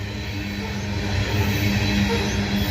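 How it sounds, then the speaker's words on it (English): A long loaded coal freight train rolls past with a constant low rumble and hum, wheels droning steadily with no horn or voices. "Loaded coal train, hear how quiet it is."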